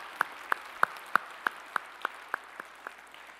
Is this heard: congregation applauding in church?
yes